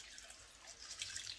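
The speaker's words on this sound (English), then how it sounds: "swizz them around in this cool water and get them clean" Pinto beans swished around in cool water, giving soft, faint splashing and dripping sounds, close and quiet, with no talk.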